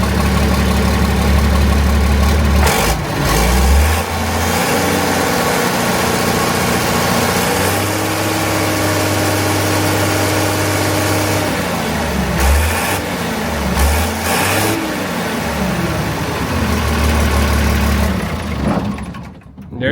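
A Massey Ferguson MF 1200 tractor engine runs steadily at idle close by, a continuous low rumble with a few brief surges and dips before it cuts off at the end.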